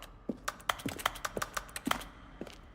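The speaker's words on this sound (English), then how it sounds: "A selection of the sounds used throughout the game when buttons are pressed. Each sound is a mix of a keyboard stroke and a synthesized tone." Button presses from The Stanley Parable, each a keyboard stroke blended with a short synthesized tone, fall as about eight crisp clicks with brief pitched blips, close and clear over quiet.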